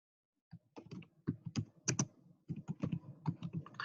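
A name being typed on a computer keyboard: quick, close, crisp key clicks in irregular short bursts, alone in a quiet room.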